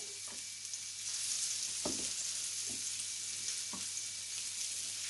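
Beef meatballs frying in a pan with a steady, even sizzle throughout, broken by a few soft clicks and scrapes, moderately close and with no one speaking.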